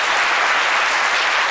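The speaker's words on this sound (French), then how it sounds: "J'aimerais vraiment qu'on applaudisse aussi pour la fondatrice" Dense, steady applause from a studio audience for the founder of the Kiyi village, loud and continuous with no voices over it.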